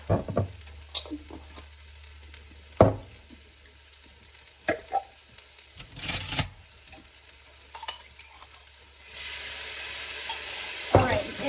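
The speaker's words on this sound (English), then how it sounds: "You want to stir constantly for 1 minute." Cherry bourbon BBQ sauce with smoked paprika being stirred constantly in a pot, a soft bubbling sizzle broken by several distinct scraping and clinking spoon strokes, with a louder hiss building near the end.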